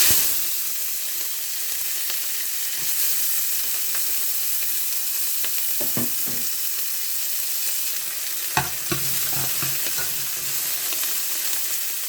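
Onions and green chillies fry in hot oil in a pan for a South Indian boti curry, making a continuous close sizzle. A few louder stirring scrapes and clatters break through, and no one speaks.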